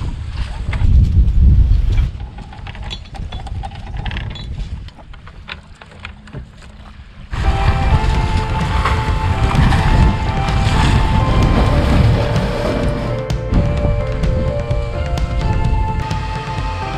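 A sailboat's motor runs as the boat gets under way, a steady rumbling drone mixed with wind buffeting the microphone, shifting partway through into a louder, more tonal hum that holds to the end.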